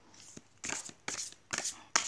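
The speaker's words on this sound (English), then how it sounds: "when I riffle shuffle, I riffle shuffle it that end as well, the short end" A large tarot deck is riffle shuffled from its short end, four crisp bursts of rapid card flutter in quick succession, close and alone.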